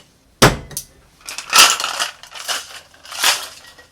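A cocktail is shaken hard with ice in a shaker, giving loud rattling, crunching bursts of ice against metal in a few uneven strokes, close up with no talk.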